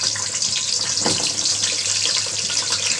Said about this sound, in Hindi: अब हम इसके अंदर हमने जो आलू लिए थे ये हम इसके अंदर डाल देंगे और अब हम इनको करेंगे हम अच्छे से फ्राई